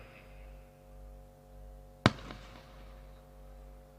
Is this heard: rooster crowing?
no